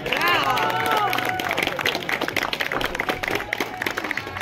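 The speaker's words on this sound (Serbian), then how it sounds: "Jedan aplauz za dečake." Applause and cheering from a crowd at a national wakeboard competition, rising quickly with excited voices over the clapping, then settling into steady, lively clapping.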